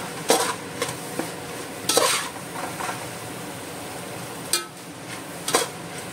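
Tomato sauce stirred into a frying mixture for Goan-style prawn chowmein, with scattered sharp spoon-on-pan clinks over a steady sizzle, fairly close and without speech.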